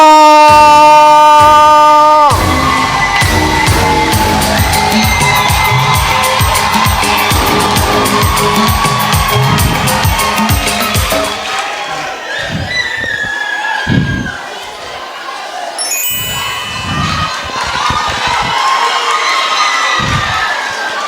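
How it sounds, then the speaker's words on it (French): After a brief musical sting, a comedy show audience erupts into loud cheering, whooping and clapping, a dense roar that gradually thins into scattered claps and shouts. "Est-ce qu'on peut accueillir, s'il vous plaît, avec beaucoup d'acclamations"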